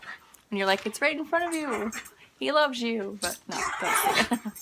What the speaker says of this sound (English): I apologize if you can hear my dog in the background.